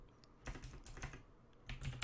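Keys click quietly on a computer keyboard as a short Linux command is entered, in two brief bursts of quick taps close by.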